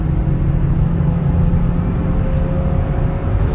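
A Hyundai Verna accelerates hard through its gears toward 6,500 RPM, a loud, continuous engine roar with road rumble from inside the car, no voices heard.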